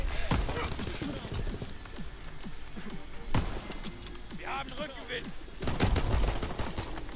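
Rocket launcher and gunfire in an online shooter video game, rapid bursts of shots and sharp blasts with a heavier boom near the end, while someone talks over the action.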